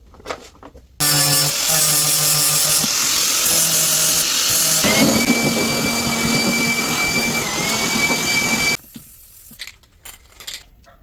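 A loud, close power tool grinds a piece for a handmade toy lock, holding a steady high whine with a tonal pitch for about eight seconds before cutting out to quiet handling noises.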